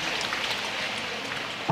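Audience applause at an anniversary ceremony for a regency in South Sulawesi, a steady dense wash of clapping from a crowd that continues evenly throughout, with no voices over it.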